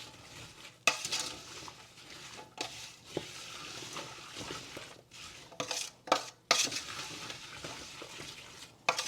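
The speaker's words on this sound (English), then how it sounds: "I'm going to turn the stove top to about number 3. I don't want to burn the bottom. And then just give it a stir." Rhubarb relish stirred in a pot on a stovetop at low heat, with irregular scraping and clinking of a utensil against the pot, sharper knocks at intervals and a soft background hiss.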